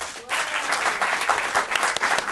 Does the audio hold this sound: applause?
yes